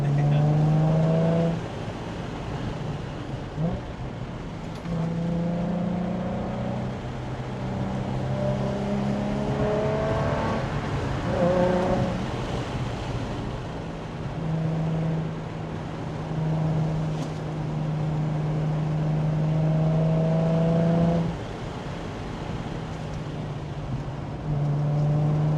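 A car on a back road runs on stock brakes, its engine droning loud and close and rising in pitch as it accelerates through several gear changes, with no talking over it.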